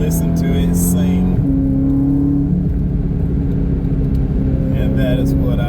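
A BMW E93 M3 with the S65 V8 engine revs and holds a high, singing engine note close by, with the pitch shifting as the revs change, while someone speaks over it at times.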